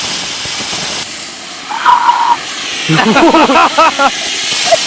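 Firework fountain sparklers burning near a tree stump, giving a loud, steady hiss that roars like a jet taking off and runs through the whole clip, with brief tonal whistles and crackling bursts rising over it midway.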